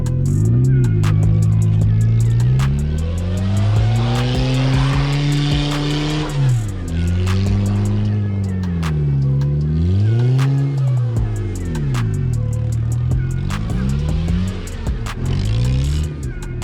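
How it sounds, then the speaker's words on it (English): A car spins reverse donuts in a clutch-control driving contest, its engine revving hard and rising and falling in pitch while the tires squeal continuously, loud and close. "That's one of the best reverse donuts I've ever seen."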